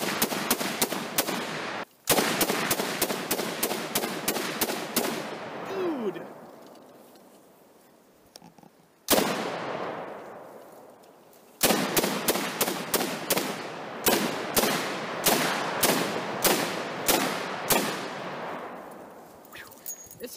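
Semi-automatic belt-fed PKM firing 7.62x54R rounds in long rapid strings of loud, sharp shots with ringing decay, broken by a few pauses where the echo dies away outdoors.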